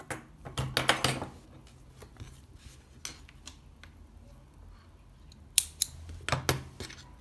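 Scissors snipping crochet yarn, a quick cluster of sharp close clicks and cuts early on, then a few isolated snips and another burst near the end, quiet and alone without talk.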